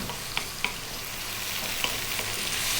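Tomatoes and eggs stir-fry on high heat with a steady sizzle, while a utensil scrapes and taps the pan a few times, close and moderately loud, with no voices.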